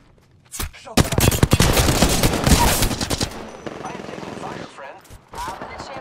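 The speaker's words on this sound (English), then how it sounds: "The enemies are shooting at me." Enemy gunfire in the shooter game Apex Legends: dense bursts of rapid automatic shots rattle loudly for a couple of seconds, then thin into scattered pops and softer game effects.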